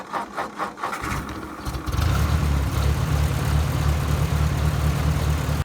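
Ford Workmaster tractor with a 40 to 48 horsepower diesel engine, some irregular clatter then a steady low rumbling idle settling in after two seconds, close and continuous with no talk.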